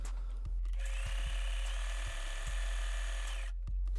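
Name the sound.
Facilita Pro 4432 sewing machine sewing a stitch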